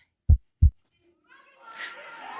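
Two deep, heavy heartbeat thumps land in quick succession as a suspense effect at the Spiel des Jahres 2024 Kinderspiel award announcement, followed by a rising, diffuse murmur of crowd noise.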